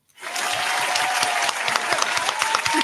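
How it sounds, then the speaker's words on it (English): Clapping for a guest on a talk show, a dense burst of steady applause from a small audience that starts abruptly and carries on evenly, close and fairly loud. "I'm going to clap for you."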